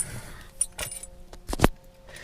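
The keys of a 2017 Ferrari 458 Italia jangle in a few quick metallic clinks and rattles, close and fairly crisp against a quiet cabin background.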